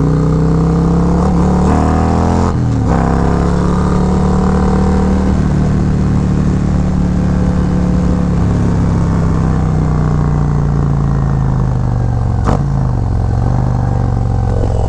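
Harley-Davidson Road Glide engine revving through its exhaust pipe, a loud, close, continuous deep rumble that rises and falls with throttle blips and short sharp spikes.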